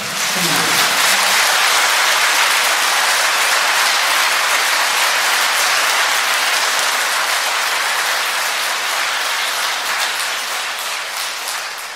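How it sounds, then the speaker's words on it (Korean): Loud, dense applause from the congregation at a music Mass for the visiting band of pianist, vocalist, engineer and guitarist, a continuous roar of clapping that fades slightly toward the end. "우리 박수 한번 보내주시면"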